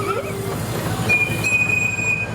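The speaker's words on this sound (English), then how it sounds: "It actually moves quite fast, doesn't it, for a park train?" An amusement park train at Pleasurewood Hills rolls fairly fast along its track, a steady close rumble with metallic wheel squeals and ringing tones rising over the running noise.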